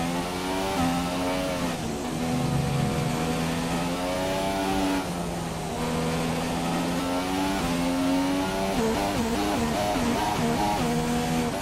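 Formula 1 car engine in the F1 2017 racing game, sixth gear refusing to engage during qualifying at the Hungarian Grand Prix: a loud, sustained high revving whine that holds and wavers in pitch without a clean upshift, with no talk over it.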